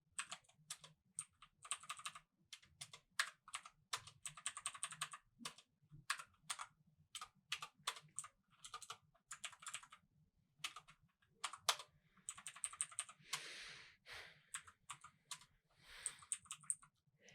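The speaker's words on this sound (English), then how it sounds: "I'm going to type in H1 and then press enter, and the H1 tag appears" Typing on a computer keyboard while entering HTML heading tags, with rapid irregular bursts of clacking keystrokes and pauses, close and fairly quiet, no talking.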